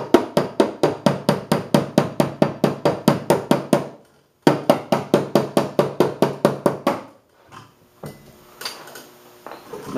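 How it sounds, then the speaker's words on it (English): A slide hammer taps on kinked, creased body metal of a Subaru, a rapid, regular series of sharp close knocks, pausing briefly and resuming, then giving way to faint scrapes and handling noise. "I'm actually going to put pressure on it with my slide hammer by just pulling it with my hand and tapping on top of that crease"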